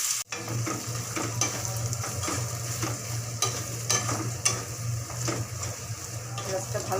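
Onions fry in hot oil in a pan for a spiced Eid roast, a continuous close sizzle broken by regular scraping strokes of a spatula stirring them.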